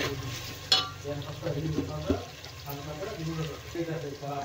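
Ginger garlic paste sizzles and fries in hot oil for an egg tahari, with fresh mint going into the pan; a soft, steady sizzle under stirring and clinks, while a voice talks over it.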